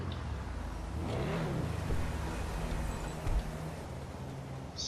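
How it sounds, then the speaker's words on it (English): The Benefactor Schlagen GT sports car in GTA Online gives a deep engine rumble that swells into a short rev and then settles into a steady idle drone, with no talking over it. "This car makes one of the best noises on GTA Online."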